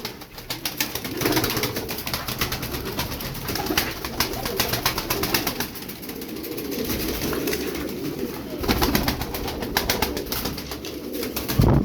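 Tumbler pigeons cooing close by, a continuous low warble with rustling and fluttering mixed in, no talk.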